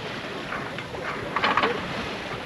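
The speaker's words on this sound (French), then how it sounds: "Un vent constant qui pousse toujours." Steady wind and water rushing around a Jouet 10.40 sailboat on the Atlantic near Cape Trafalgar, a constant broad whoosh with a few louder gusts and splashes midway, no talk.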